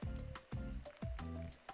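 Curry leaves frying in hot oil, sizzling and crackling close by, with repeated bursts of spattering every half second or so.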